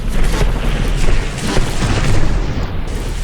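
Heavy shells strike a battleship during a From the Depths game battle, a dense run of deep, rumbling booms and bursts that keeps going loud for a few seconds.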